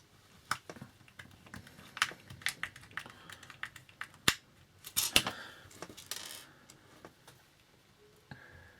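Small screws are driven by hand into a plastic model Ghostbusters Proton Pack, giving a scattered series of sharp close clicks and light scraping taps at irregular intervals against a quiet background.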